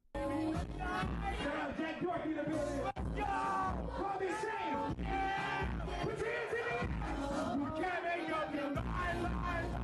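A club crowd reacts while a promoter tries to hype up the room, with a continuous dense wall of yells, whoops and chatter mixed with loud background music, all at a steady close level.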